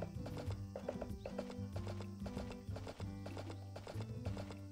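Horse hooves clip-clop in a steady rhythm in the farming game Story of Seasons: A Wonderful Life, over continuous background game music throughout.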